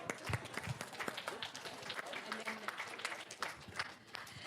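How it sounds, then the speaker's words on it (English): Scattered audience applause at a literary talk with an author, moderately faint and somewhat uneven, with occasional voices and crowd murmur mixed in. "That deserves applause."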